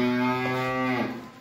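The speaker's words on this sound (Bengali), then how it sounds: "এই হলো আজকের একটা ফ্রিজিয়ান বকনা বাছুর" A Friesian heifer calf moos once, a loud, close, drawn-out tonal call that fades at the end.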